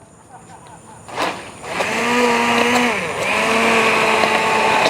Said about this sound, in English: I have my Braun immersion blender here, and I'm going to go ahead and puree the tomato soup